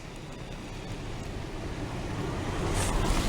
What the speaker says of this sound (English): Just listen to that sound. The waterfall sound.